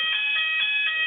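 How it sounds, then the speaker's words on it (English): A building fire alarm blares during a webinar, a loud, steady high-pitched electronic tone pulsing in quick regular beats with no talking. "excuse me, there appears to be a fire alarm. Hopefully it's just a test."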